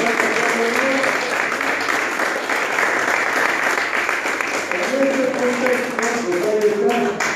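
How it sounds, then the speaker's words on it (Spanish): Audience applause breaking out at an award and appointment ceremony, steady dense clapping filling the room for several seconds, with voices talking over it. "que se ponga un aplauso"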